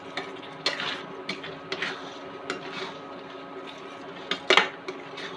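Bread halwa is stirred continuously in a pan with a spoon, giving repeated light scraping and clinking against the metal over a steady low background.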